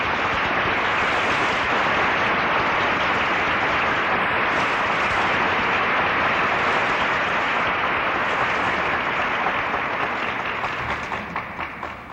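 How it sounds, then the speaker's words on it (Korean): A large assembly hall fills with loud, sustained applause as Kim Gu's party enters. The dense clapping from many hands holds steady throughout and begins to thin out near the end. "김구 일행이 들어오는 것을 본 일동은 우렁찬 박수로서 맞아주는 것이었다"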